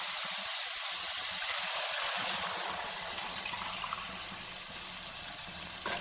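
Water is poured into a pan of coconut and flour mixture, making a close, rushing hiss and gurgle that gradually softens as the pour settles.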